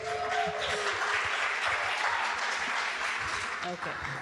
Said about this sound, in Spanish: un aplauso para mi hija hermosa